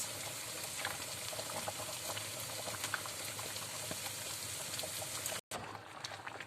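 A pot of egusi soup simmers and thickens on the fire, giving a steady, close bubbling hiss that cuts out abruptly for a moment before resuming.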